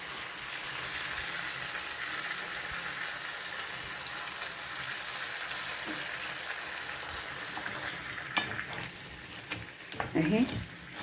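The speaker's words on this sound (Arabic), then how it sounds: "شوحنا بقى البصل مع الفلفل الاخضر والفلفل الاحمر، وشوحنا البطاطس مكان التحمير الفراخ" Onions, green and red peppers and potatoes fry in a pan where chicken was browned, giving a steady close sizzle throughout, with a few stirring clatters and scrapes near the end.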